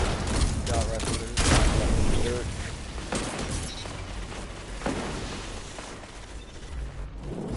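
Scout rifle gunfire in a shooter video game, a run of loud cracking shots in quick bursts with one heavy cluster early on, mixed with dense game noise and explosions throughout.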